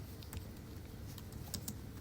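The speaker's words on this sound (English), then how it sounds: "Let me type it in caps." Faint, quiet tapping on a computer keyboard while entering text in a design program, a light irregular patter of keystrokes close by.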